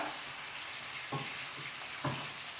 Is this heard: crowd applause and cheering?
no